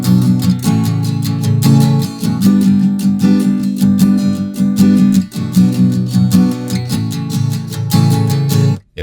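Acoustic guitar strummed in a fast 16th-note pattern, bright chords ringing continuously with rapid, even strokes close up, ending in a brief stop.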